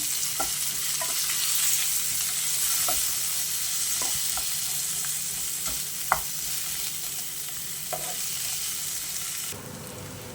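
Diced potato is stirred into a pan for a fasting sandwich filling, a steady hiss of frying under scattered scrapes and clicks of the spoon against the pan, the sizzle dropping off abruptly near the end.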